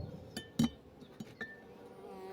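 Honeybees buzzing close by as they are brushed off a hive frame, with a few soft clinks and taps in a quiet setting.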